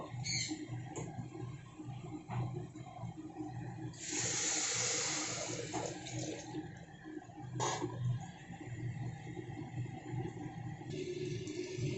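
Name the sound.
water poured into pot with rice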